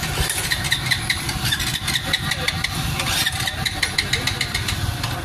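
A 2021 Honda Revo X motorcycle's electric starter cranks repeatedly without the engine catching, a rapid rhythmic whirring chatter held loud and close for several seconds.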